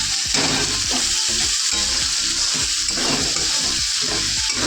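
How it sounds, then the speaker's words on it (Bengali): Chicken pieces fry in a hot pan with a loud, steady sizzle and crackle throughout, with occasional scraping stir strokes and no voices. "চিকেনটাকে ভেজে রান্না করব"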